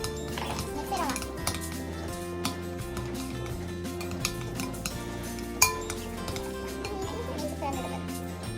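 A utensil stirring and scraping slime ingredients of glue and contact liquid in a bowl, with repeated clinks and taps against the bowl over constant background music.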